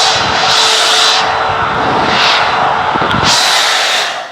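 A handheld hair dryer blows a steady, loud whoosh while drying hair after a keratin straightening mask, its airflow rising and falling in waves as it moves closer and farther away.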